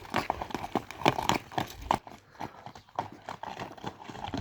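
Hooves of a Beshkashka horse clip-clop in an irregular run of close, sharp knocks, louder and denser at first and then sparser.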